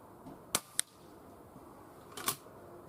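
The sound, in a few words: Weihrauch HW100 air rifle shot at 35 m target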